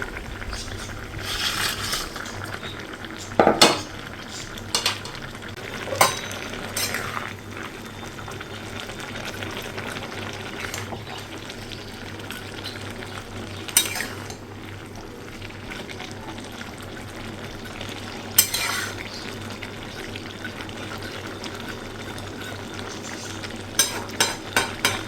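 Fish curry gravy with pieces of fish simmers and bubbles steadily in a pot, with occasional sharper clinks and stirring scrapes punctuating the soft continuous boil; no one talks.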